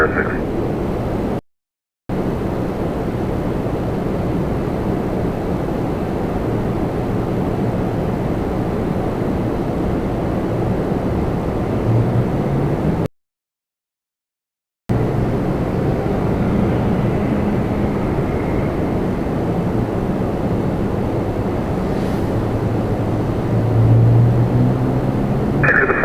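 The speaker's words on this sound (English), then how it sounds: "All right, WestJet 806 off to Halifax. 737 800." A WestJet Boeing 737-800 takes off from Toronto Pearson, bound for Halifax, as a steady, fairly distant jet roar interrupted by two brief dropouts to silence, with faint voices in the background.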